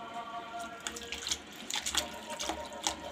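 Bathua greens being washed by hand in a basin of water, soft splashing and dripping with several brief sloshes as the leaves are pressed and lifted, fairly quiet and close.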